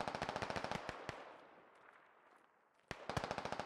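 Rapid automatic gunfire in the video game Squad, a loud burst of closely spaced shots, a pause with two single cracks and fading echo, then another sharp burst resuming near the end.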